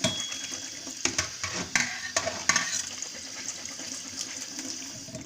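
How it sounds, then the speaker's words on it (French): Drained food rinsed under running water in a colander, a steady close splash of flowing water with small clattering knocks of food and metal in the first seconds, fading to an even stream. "on va les repasser légèrement sous l'eau pour faire en sorte d'enlever le reste d'excédent de sel"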